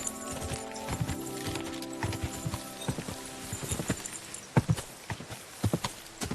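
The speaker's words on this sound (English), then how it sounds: "This game has no business being as fun to ride horses in as it is." A horse in Kingdom Come: Deliverance 2 clip-clops through woods, its hooves striking in a steady, fairly close rhythm that grows sharper and louder toward the end, set over a soft ambient music bed.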